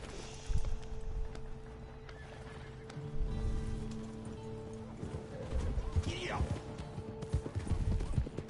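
In the video game Red Dead Online a horse neighs and its hooves clip-clop at a walk, with a whinny partway through and a person speaking over the game sounds.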